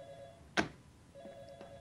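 In a Gmod horror game, an electronic telephone rings faintly in short tonal bursts, broken by a single sharp thud partway through, with quiet surroundings and no talk.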